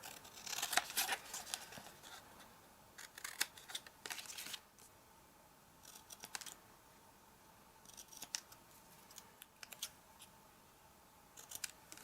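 Scissors snip through paper stamped with a word to make a faux label for a card, several short crisp cutting strokes in bursts, close and fairly quiet, with no talking.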